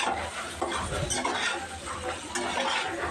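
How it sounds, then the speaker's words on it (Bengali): A potato and eggplant mixture being stirred in a pan, with a utensil scraping and clinking against the metal over a soft sizzle of frying, close and continuous. "আমি সব একসাথে মিক্স করে নিয়ে ভালো করে বেজে নেব।"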